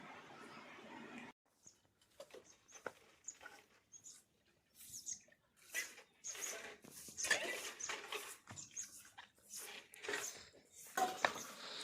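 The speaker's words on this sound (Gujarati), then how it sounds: "ચા પાણી પીને વાસણનું ટૂંકવાનું કામકાજ હાલે અને રંજનબેન વાસણ ઉટકે" Metal utensils being scrubbed and rinsed outdoors on a farm after tea, giving irregular clinks and clatters of pots and dishes with birds chirping nearby.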